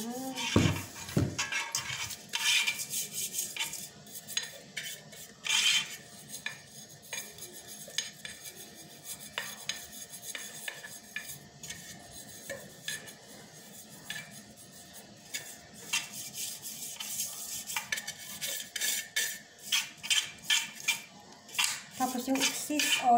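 Pastry brush spreading a little cooking oil over a metal cake pan for an orange cake, heard as soft scraping and light metallic clinks and taps, close by and irregular, with a steady faint hum under them.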